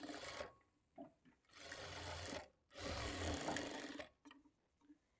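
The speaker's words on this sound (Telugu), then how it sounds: "ఇప్పుడు ఇదే స్టిచ్ మీద ఇంకొక స్టిచ్ వేసుకోవాలి." A sewing machine runs in several sustained bursts of stitching, sewing a second line over an existing seam on a one-piece umbrella cut kurti, loud and close with brief pauses between runs and no speech.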